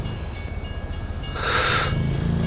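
A train rolls past at American Falls, a steady rumbling rush with rhythmic wheel clatter that swells louder and brighter midway through, heard alone with no talk.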